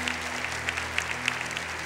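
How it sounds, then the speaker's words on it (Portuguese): A church congregation claps after a Gospel reading at a Catholic Mass, steady sustained applause with scattered sharper claps over a low organ-like hum. "Aplaudamos com força a palavra de Deus."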